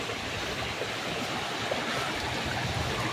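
Clear mountain spring water streaming over rocks in the hills of Matanao, Davao del Sur, a steady broadband rush that holds even and continuous throughout, with no voices.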